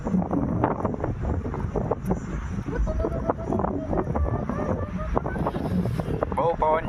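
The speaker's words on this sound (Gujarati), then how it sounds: "બહુ પવન છે મિત્રો." Strong wind buffets the microphone outdoors in a loud, continuous rumble with gusty swells, while people talk over it.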